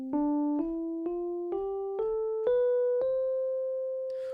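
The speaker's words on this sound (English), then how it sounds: "That's the sound of a major scale." A single pitched instrument climbs a major scale from C, with eight clear, evenly spaced notes that each ring and decay, played close with no voices.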